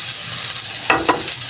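Chicken adobo with string beans sizzling in a pan while being stirred, a steady close fry broken by two quick scraping strokes of the spoon, with no talking.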